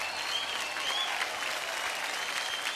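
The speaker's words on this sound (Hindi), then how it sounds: "दोनों के लिए जोरदार तालियां।" A studio audience at a singing talent show applauds warmly, a dense, even wash of clapping and cheering that continues steadily throughout.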